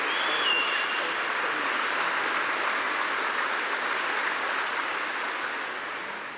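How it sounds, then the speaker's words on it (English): An audience at a charity gala breaks into sustained, dense applause that fills the room evenly and starts to fade near the end, with no talk over it. "I just want my mother to get the proper round of applause that she really deserves"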